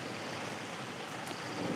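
Waves wash and roar continuously right beside the listener, a dense, steady rush of surf with no voices over it.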